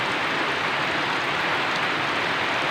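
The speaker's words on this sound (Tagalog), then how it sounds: "It's raining." Steady rain falls as a constant broadband hiss, close and even, with no distinct drops or voices standing out.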